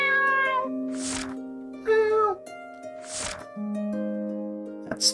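A cat meows repeatedly in the video game Voidswept, several drawn-out, clear meows spaced across a few seconds over a steady layer of sustained game music, loud and close.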